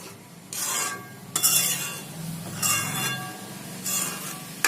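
A spoon stirs Kitchen King masala into leftover vegetables, producing four rough scraping, rasping bursts separated by short quiet gaps, close and fairly loud, with no talk.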